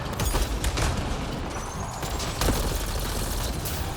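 Sustained gunfight in Mass Effect Andromeda inside an ancient ruin, with dense overlapping shots, booms and mechanical clatter filling the whole stretch at steady loudness, no voices.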